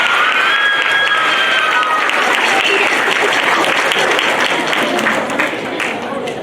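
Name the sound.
audience applause at band concert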